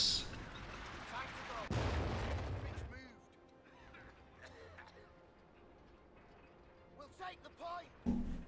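Artillery fire in the strategy game Company of Heroes 2, with a heavy rumbling barrage of booms up close and then fading to scattered distant impacts, while a player talks over it.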